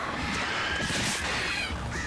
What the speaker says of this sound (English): Oh, can't avoid birds.